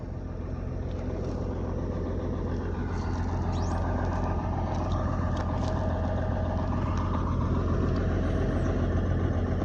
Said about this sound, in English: Put your wheel lift down.